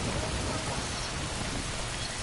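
Steady rain pours down in the video game Death Stranding, a dense, even hiss of drops with no pauses, close and fairly loud from start to end.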